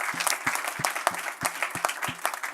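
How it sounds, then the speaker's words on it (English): An audience applauding participants at a sustainability event, a steady round of close clapping with many hands striking in quick, dense succession, sustained throughout without voices. "Thank you so much, and big applause to the participants."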